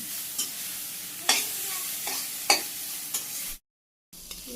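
Leafy greens with green chilies sizzle steadily as they stir-fry in a pan, broken by a few sharp scraping stirs, then a brief cut to silence before the sizzle resumes.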